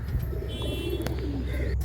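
Soft coos from high-flying breeding pigeons sound close by, low and murmuring, over a steady background hum with a faint high whine.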